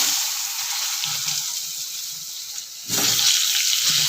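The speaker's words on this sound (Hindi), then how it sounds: "चलत आगे आलू तेल रे भाजी दबा" Potatoes frying in hot oil for a cabbage-potato curry give a steady, close sizzle throughout, briefly dipping and then swelling louder near the end as the pieces are stirred or turned.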